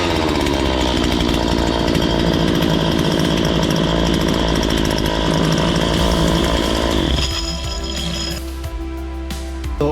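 A recommissioned Husqvarna 137 chainsaw runs loud and close at a steady high-revving buzz, then drops back toward idle near the end.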